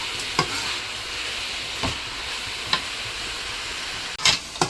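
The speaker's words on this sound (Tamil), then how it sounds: "பச்சை மிளகாவையும் போட்டு நல்லா வதக்கி விட்டுக்கோங்க" Green chillies and onion for a potato masala are sautéed in a pan, with a steady close sizzle broken by several sharp spatula scrapes and clinks.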